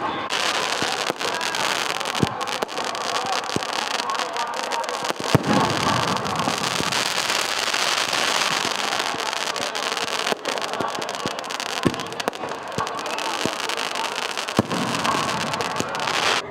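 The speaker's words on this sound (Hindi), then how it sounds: "इस वक्त हम मौजूद हैं पटना के ऐतिहासिक गांधी मैदान में, जहां पर आतिशबाजी हो रही है।" Fireworks burst at a Ravan Dahan celebration on Gandhi Maidan in Patna: a dense, loud, continuous barrage of crackles and sharp pops with frequent louder bangs, sustained throughout without pause.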